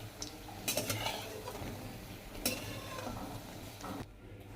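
Mixed vegetable pakoras, round in shape, deep-fry in hot oil with a steady low sizzle, joined by a few light clinks and stirring scrapes from a utensil in the pan.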